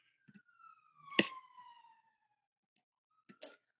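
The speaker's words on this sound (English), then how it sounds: "don't mind the sirens" Faint sirens from outside, heard indoors during a branding workshop, as distant wailing tones that rise and fall, with a soft thump and a couple of brief noises.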